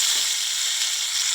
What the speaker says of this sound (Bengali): তেলটা গরম হয়ে গেছে। আলুগুলো আগে ভেজে নেব